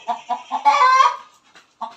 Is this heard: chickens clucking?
yes